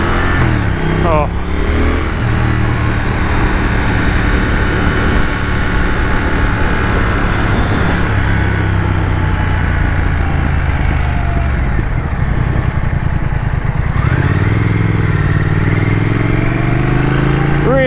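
A 2021 Triumph Thruxton RS retro motorcycle engine drones steadily while riding, with its pitch rising and falling through gear changes and a rider's voice talking over it.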